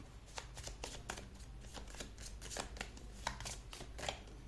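Tarot cards being shuffled by hand in repeated quick riffling bursts, close and fairly quiet, with no talking.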